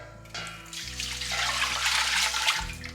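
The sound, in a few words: vinegar being poured into pickle brine mix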